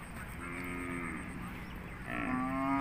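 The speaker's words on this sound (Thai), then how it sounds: "จิ๋ววัวงามจากอุบล" Cattle at a Thai cattle market selling breeding bulls in Som Poi Noi moo in long, drawn-out lows. A second call swells louder near the end over a constant crowd and outdoor background hum.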